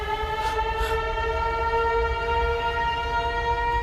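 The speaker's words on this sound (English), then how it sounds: "About to have a siren test." A school siren test is heard through open windows as a steady, sustained tonal wail with layered harmonic pitches, held evenly at moderate loudness with a low background rumble.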